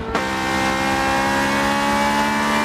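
Engine sound from a race car lapping Monza in the video game Forza 7, a loud, steady high revving drone with a sharp gear-change blip at the start, with no talk over it.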